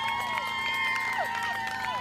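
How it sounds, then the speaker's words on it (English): Spectators cheer on runners at the Ottawa International Marathon, a steady roar of crowd noise with scattered whistles and shouts throughout, no clear single voice dominating. "there's getting great support from the crowd here in Ottawa"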